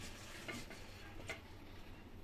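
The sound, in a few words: eggs frying in oil from fried chira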